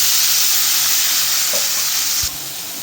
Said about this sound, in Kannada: ಮೊದಲಿಗೆ ಸಾಸಿವೆ ಜೀರಿಗೆ ಹಾಕ್ತಿದ್ದೀನಿ.